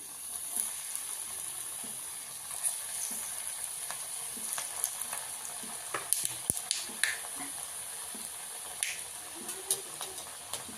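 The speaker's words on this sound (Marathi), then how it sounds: "तेल गरम झालेलं आहे तर सर्वप्रथम आपण वडी तळून घेऊया" Cabbage wadi frying in hot oil in a home kitchen, a steady bright sizzle and hiss with scattered pops and spatters throughout, close and moderately loud.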